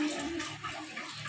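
Water poured into a cooking pot holding potatoes and eggs, a steady close splashing wash that runs unbroken and fairly soft, with no voices.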